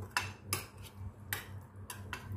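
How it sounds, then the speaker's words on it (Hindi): A chicken marinade with spices and yellow food colouring is stirred in a bowl, heard as a handful of sharp, quiet clinks of a spoon against the bowl at an uneven pace, with no voices. "अच्छे से मिक्स कर लेंगे इसको।"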